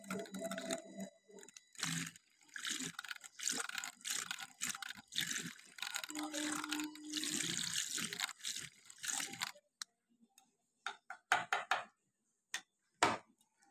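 Homemade cucumber winter cream being mixed in a container, a busy run of rapid scraping and clattering strokes that stops abruptly partway through, followed by a few sparse taps and clicks.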